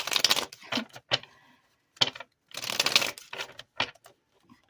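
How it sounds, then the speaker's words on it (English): A thick deck of tarot cards riffles and flaps in several short bursts, with quiet pauses between the shuffles. "This one is pretty thick, so I gotta shuffle it carefully to get the messages"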